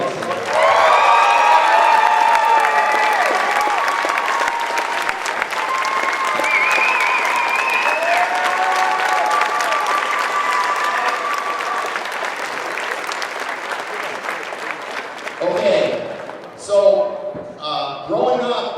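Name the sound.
crowd applause in a school gym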